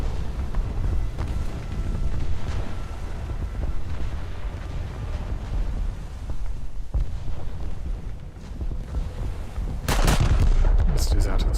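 Heavy naval guns boom in a World of Warships-style battleship game, a dense rumbling barrage throughout with a louder, sharper salvo near the end.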